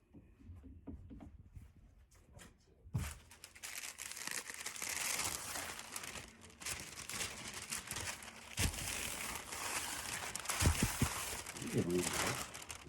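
Butcher paper is handled and smoothed flat while making an affirmation pillow, giving close, steady crinkling and rustling for several seconds with a few sharper taps and knocks.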